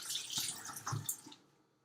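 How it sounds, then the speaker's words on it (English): Tap water runs over hands at a kitchen sink, a close splashing rush that swells briefly and then tapers off as the flow stops. "Wash my hands off."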